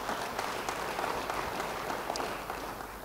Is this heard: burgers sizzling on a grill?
no